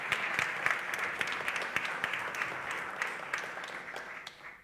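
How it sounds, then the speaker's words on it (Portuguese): An audience applauds the technicians at an event celebrating the Portuguese language, a dense burst of clapping with a few louder individual claps standing out before the sound thins and fades at the end. "pido um aplauso muito forte para os técnicos aqui presentes"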